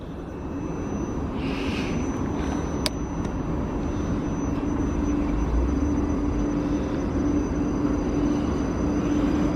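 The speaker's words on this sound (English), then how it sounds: "The train I just got off." South Western Railway train between Chertsey and Weybridge, heard as a steady, loud low rumble that hangs on for the whole stretch, with a sustained whine riding over it and a single sharp click near the middle.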